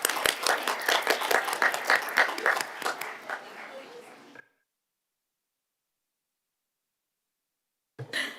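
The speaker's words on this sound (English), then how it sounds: "Let's give them another round of applause." Audience applause at a Birmingham City Council meeting, many hands clapping steadily for about four seconds before tapering off into silence, with a voice briefly resuming at the end.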